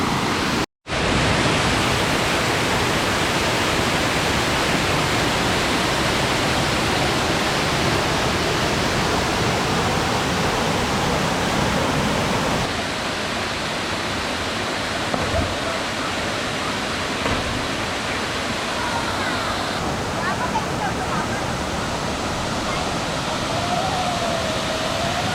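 Cachoeira do Jaja, a waterfall in Morretes, pours in a steady, loud broadband rush that fills the whole stretch, with a brief dropout near the start and a slightly softer tone in the second half.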